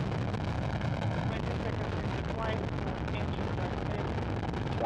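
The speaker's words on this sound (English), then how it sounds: "Getting a great view of those first stage engines as they light up the night sky" Rocket first stage engines at night launch of a crew to the International Space Station, a loud, dense, continuous rumbling roar with a voice talking over it.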